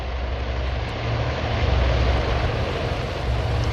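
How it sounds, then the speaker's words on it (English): Torpedo bomber engines in the naval strategy game Task Force Admiral, set in the Battle of the Coral Sea, give a steady, loud, deep propeller-engine drone that holds throughout with no voice. "These are the torpedo bombers."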